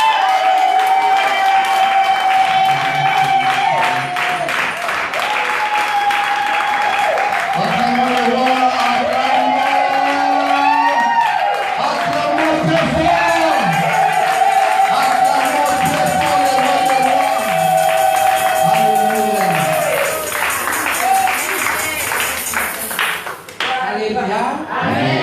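A church congregation applauding and acclaiming Jesus, with continuous loud clapping and crowd noise over music with singing or voices throughout.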